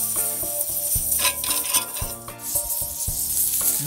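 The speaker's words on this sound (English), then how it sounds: "The skillet's on the grill already going for us." Butter sizzles in a hot skillet on a grill, a steady crackling hiss mixed with repeated metallic clinks and scraping.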